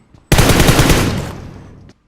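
Automatic gunfire from the video game PUBG, one loud sustained burst of rapid shots lasting over a second and a half, close and alone.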